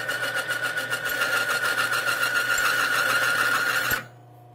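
A Timken bearing test machine runs dry under load, a steady, close mechanical whine with a rhythmic ticking throughout, until it cuts off abruptly as the bearing seizes, leaving near silence.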